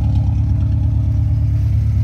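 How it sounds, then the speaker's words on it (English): A car engine on a budget build with freshly tightened exhaust bolts, given a slight rev: a loud, close, throbbing exhaust rumble that holds fairly steady for about two seconds, with no talk. "so just give it just a slight rev"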